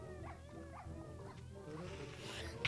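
A tamed dog in Minecraft gives a few quiet, repeated whimpering yips, faint and steady, over a low game background.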